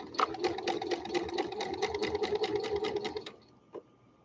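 A sewing machine stitches fabric for skirted baby cloth diaper covers, running in a close, steady rattling whir for about three seconds before stopping, followed by a single small click.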